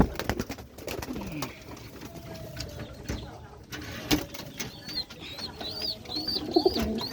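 Pigeons coo in a pet-pigeon stall, a pair of red dauka set beside a large pigeon. Their soft calls repeat through the middle and end, mixed with chirps from other birds and background bustle.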